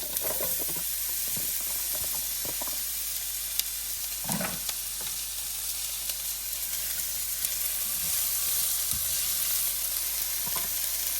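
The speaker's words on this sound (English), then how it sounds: "We're going to saute the onions with all the spices." Onions sauté with spices in olive oil for an okra dish, a continuous close sizzle and hiss with occasional stirring scrapes and spatula knocks, no voices.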